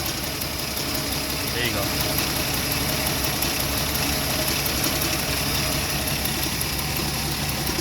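An old car engine idles steadily just after starting, a close, continuous mid-pitched running hum with faint rhythmic knocking, while someone speaks briefly over it.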